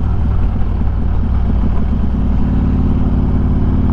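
Harley-Davidson Street Glide Special with a Screamin' Eagle 120R engine and Bassani exhaust, rumbling steadily at close range with a deep, even low-frequency throb and no talk.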